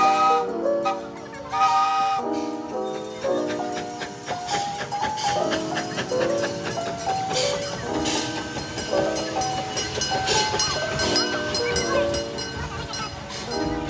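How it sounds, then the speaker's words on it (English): The Northern Alberta train at Fort Edmonton Park is heard up close, its rolling clatter carrying under a series of bright, sustained tonal notes that shift in pitch, with a brief voice in the background. "riding the Northern Alberta train is one of the highlights for me usually whenever I visit Fort Edmonton Park"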